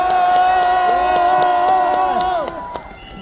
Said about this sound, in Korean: 정명진 청년을 큰 박수로 모시겠습니다.